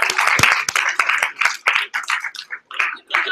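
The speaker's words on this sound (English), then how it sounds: "Can we have one more round of applause for all the speakers?" Debate audience applauding the speakers at a grand final, a dense burst of clapping from a crowd that thins and becomes more scattered as it tails off.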